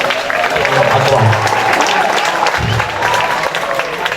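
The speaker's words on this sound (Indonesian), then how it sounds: "Beri tepuk tangan dulu untuk hadrah." An audience at a Ramadan tabligh akbar gathering applauds a hadrah group, steady clapping from many hands mixed with crowd murmur and some voices underneath.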